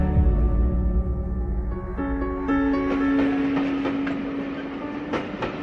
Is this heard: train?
yes